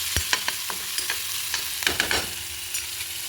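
Onion roasting until browned in a pan, a soft constant sizzle punctuated by a series of quick spatula scrapes and taps, heard up close with no one speaking.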